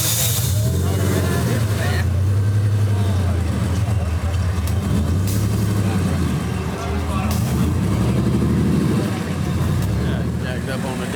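A lifted, jacked-up diesel truck rumbles loud and near at a fair, its deep throbbing engine note swelling and easing over several seconds, with people talking over it.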